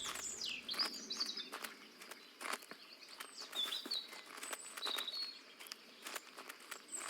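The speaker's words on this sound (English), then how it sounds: "now we've just got a bunch of robins all over the garden" Robins chirping across a garden in the video game Botany Manor, with several short high tweets and trills scattered among soft footstep-like patter, fairly quiet and without talk.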